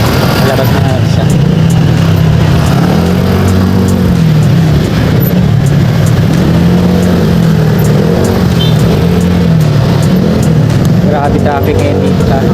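Dense city traffic near Manila Seedling Bank, Quezon Avenue, with a steady wash of car and motorcycle engines rising and falling in pitch, loud and continuous throughout.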